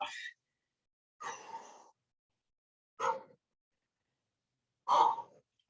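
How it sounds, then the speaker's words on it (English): Heavy breathing after a hard workout exercise set, with four separate loud gasping breaths and sighs spaced about a second or two apart, close to the microphone with quiet gaps between. "I'm breathing hard. It's hard to talk."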